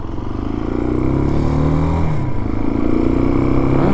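Motorcycle riding noise, a steady loud engine drone with wind rumble and a rising, shifting pitch as the bike accelerates, close and continuous for a few seconds.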